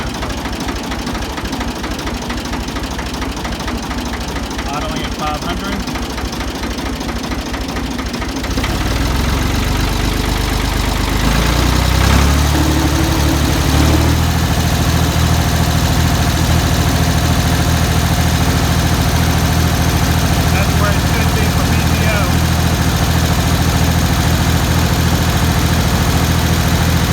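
A Ford 2000 tractor engine idles low and loud close by, a continuous knocking diesel chug that shifts and deepens partway through and then settles into a steady rumble.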